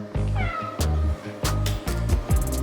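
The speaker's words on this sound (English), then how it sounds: "What a big kitty helper you are." A large house cat meows close by, giving four or five short, insistent meows in quick succession with brief gaps between them.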